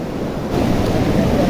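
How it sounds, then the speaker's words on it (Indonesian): Fast-flowing river near the Kedung Kayang waterfall, a loud, continuous broadband rush of water that swells slightly partway through, with wind buffeting the microphone. "kita harus menyeberangi kali yang alirannya cukup deras ya teman-teman"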